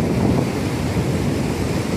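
Ocean surf breaks against a jetty, a constant loud rumbling wash blended with wind buffeting the microphone, with no talking.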